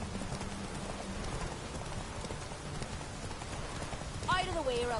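Geralt's horse Roach gallops during a race in The Witcher 3, with rapid, steady hoofbeats and a rain-like patter beneath, while a voice speaks near the end.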